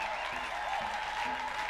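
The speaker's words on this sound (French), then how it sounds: "Et des acclamations et des applaudissements." A church congregation claps and cheers at a revival service, a soft, distant patter of hands with low rhythmic thumps underneath, sounding muffled and subdued.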